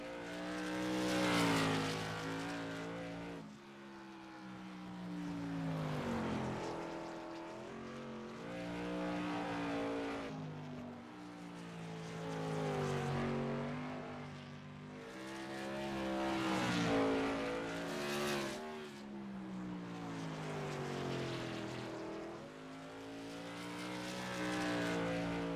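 Shane Wagner's number 26 modified race car laps Concord Speedway in the TRS Tour Modified Series, its engine rising and falling in pitch as it passes, repeatedly swelling loud then fading across the lap.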